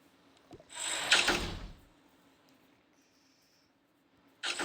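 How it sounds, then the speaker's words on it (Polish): A door being shut downstairs in a home, heard as a single muffled knock and rustle, moderately loud and fairly close, followed by quiet room tone and the start of another noise at the end. "to idę zamknąć drzwi na dół"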